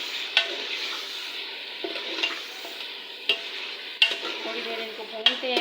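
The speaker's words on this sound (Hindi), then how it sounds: "थोड़ी देर इनको भूनते हैं।" Ginger garlic paste and tomatoes sizzle steadily in hot oil, with a spoon stirring and scraping the pan several times, close up.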